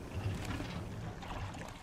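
Boat motor running in the survival game Raft, a low steady churning drone with a wash of water and wind, fairly quiet and continuous throughout, no talk over it.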